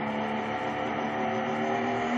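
A diesel Ford pickup roars at full power during a truck pull competition at an Indiana diesel shootout, a loud, sustained, strained engine drone that holds steady and builds slightly toward the end.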